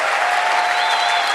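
Congregation in a church service applauding steadily, a dense continuous wash of clapping from many hands with a faint sustained tone underneath, no pauses.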